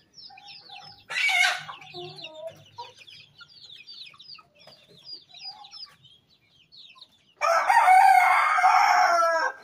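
Native laying hens cluck and chatter softly in a farmyard, a burst of louder squawking near the start, then a long, loud crow-like call near the end, with no one talking.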